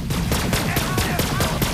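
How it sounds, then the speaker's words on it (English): Rapid volleys of gunshots in the video game Borderlands 3, sharp close cracks repeating about every quarter second in steady bursts, loud and without talk. "Son of a bitch, stop shooting me!"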